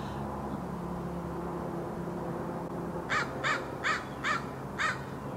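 A crow caws five times in a steady series, moderately distant, over a constant low rumble of background noise.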